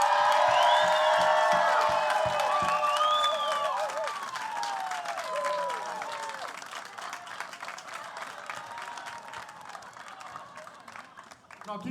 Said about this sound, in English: Can we give a little round of applause for Mr.